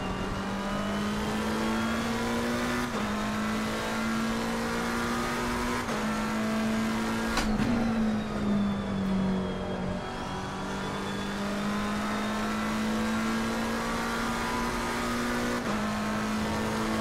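Interior view of a McLaren 720S Evo in the racing game Assetto Corsa Competizione: a loud, continuous engine drone that holds a steady pitch, with brief shifts every few seconds and a sharper change in the middle.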